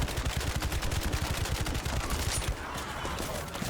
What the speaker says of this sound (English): I guess we're just gonna have to shoot at this thing forever